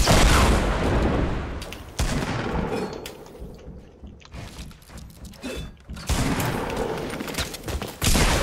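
Gunfire in Fortnite: a dense, loud volley of close shots with sharp reports near the start and end, softer scattered shots and clatter in the middle.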